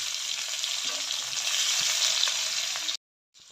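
Chopped garlic and green chillies frying in a pan, an even bright sizzle that runs steadily for about three seconds and then cuts off abruptly.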